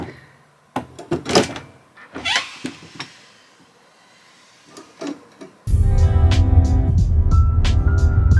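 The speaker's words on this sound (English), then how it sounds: "I think one of the quirkiest parts of this ball is the door and how it opens." Door of a ball-shaped sphere treehouse in a forest near Vancouver swinging open, a series of sharp knocks, clunks and latch sounds followed by a loud, steady rumbling mechanical noise that continues to the end.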